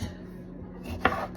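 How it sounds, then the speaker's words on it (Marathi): A knife chopping onion, one clear sharp cut on a board near the end after a brief quiet stretch, close and without talk. "तर असं मी चिरून कांदा घेते"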